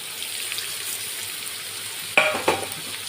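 Boiled papaya and potatoes are mixed with poured-in spices in a pan over a soft constant sizzle, with two sharp scraping stirs of a utensil near the end.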